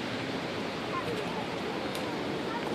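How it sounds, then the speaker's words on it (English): A waterfall: a constant, even rushing roar of falling water, moderately loud and unbroken, heard close with no clear speech over it. "Let's just get this waterfall in real quick."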